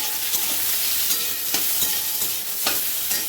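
Goat liver stir-fried with salt, turmeric, ginger, garlic, green chilli and cumin paste in a pan, a dense close sizzle with regular spatula scrapes and taps.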